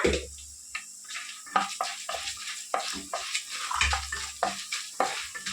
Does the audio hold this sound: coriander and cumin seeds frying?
yes